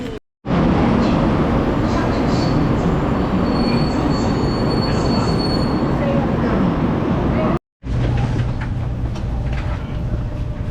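Loud, continuous rumble of a Taiwan High Speed Rail train in motion with a high squealing whine, briefly cut off twice, steady and close throughout, heard from inside the train.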